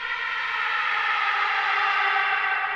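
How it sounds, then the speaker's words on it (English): An air raid siren sample, pitched down and drenched in heavy reverb, rings out as a steady sustained wail with a long smeared tail, loud and alone with no other sounds. "So I just got an air raid siren and I put like a big reverb on it so that it lasts a lot"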